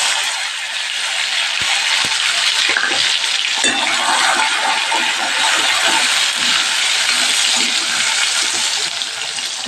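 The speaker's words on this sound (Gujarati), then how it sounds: "પછી આપણે ટમેટું સુધારેલું ઉમેરી દઈશું" Chopped tomato goes into a hot frying pan and sizzles loudly and continuously up close, with faint scraping underneath.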